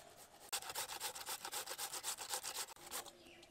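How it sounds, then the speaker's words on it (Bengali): Peeled kohlrabi scraped over a grater in quick, regular rasping strokes, about fifteen close, crisp passes with no voices. "ওলকপিকে ঠিক এরকম গ্রেট করব।"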